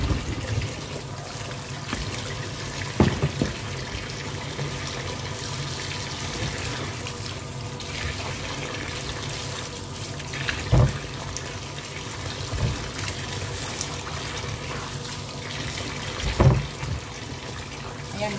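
Water streams steadily from an open kitchen tap in a home kitchen, a continuous broadband rush lasting throughout, with a few brief louder splashes or clunks breaking through at intervals.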